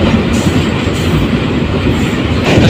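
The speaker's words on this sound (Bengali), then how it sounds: "তো এখান থেকে যাত্রী নিয়ে ট্রেনটি আবার ছুটে চলবে।" A local train on the Bhairab to Narsingdi line rumbles loudly and continuously up close, its wheels clattering over the rails in a dense, steady roar.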